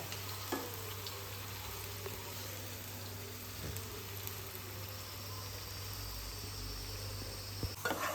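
Onions deep frying in oil until golden for Vadakara beef biryani, a faint, continuous bubbling sizzle with a low steady hum underneath and a few small knocks.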